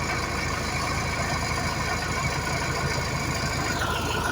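MTZ-82 tractor engine running steadily while weeding watermelons with a KRN-1.4 cultivator, a continuous loud diesel drone with a rough low pulse throughout, near and alone without talk.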